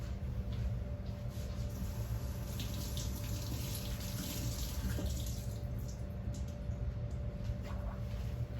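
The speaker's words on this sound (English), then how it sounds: "So I'm gonna rinse it." Tap water runs steadily into a sink as a chile pepper is rinsed under it, a continuous close hiss with slight splashing changes, no voices.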